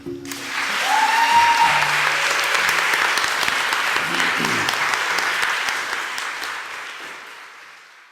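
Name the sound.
crowd applauding in a standing ovation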